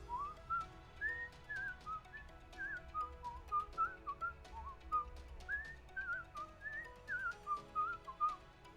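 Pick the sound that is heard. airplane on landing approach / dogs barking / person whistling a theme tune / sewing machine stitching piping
person whistling a theme tune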